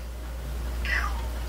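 A house cat gives a single short meow over a steady low hum, mid-level and fairly close, with no one speaking.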